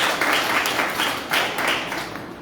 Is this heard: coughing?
no